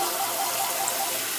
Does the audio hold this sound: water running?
yes